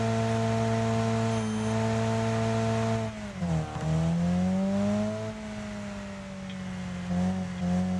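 A race car in the video game Wreckfest drones with a steady, buzzing engine tone that wavers and shifts pitch midway, then settles back into a constant hum, loud and continuous, with no talk.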